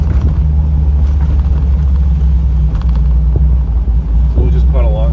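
A 1981 Trans Am swapped to an LS3 416 V8 cruises at about 1,000 RPM through a residential street, its loud, steady low rumble droning throughout with brief talk over it.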